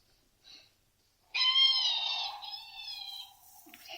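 A cat lets out a long, drawn-out meow, loud and close, following a faint brief sound; it trails off slowly with no talking.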